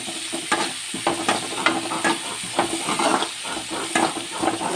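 Onions frying in a pan, a continuous close sizzle broken by repeated scraping stirs at an uneven rhythm, with no talk.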